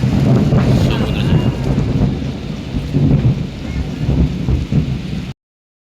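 Rain pours and thunder rumbles over a rough sea at a beach resort, heard from a balcony as a loud, steady roar with deep swells that ends abruptly.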